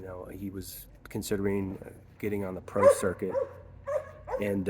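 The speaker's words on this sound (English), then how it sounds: "sorry about the dog." A dog barks a few times close by, its short barks mixed in with someone talking over it.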